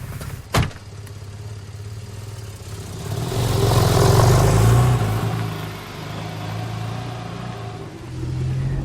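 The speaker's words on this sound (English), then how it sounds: "The engine fires with a guttural roar before settling down into the usual pulsing beat." Engine of a 2012 Porsche 911 Carrera starting up with a sharp bark, then a rising guttural roar that swells and settles into a steady pulsing idle, with another build at the end and no speech.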